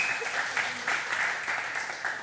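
A church congregation applauds the band in a dense, continuous patter of many hands clapping at a moderate distance.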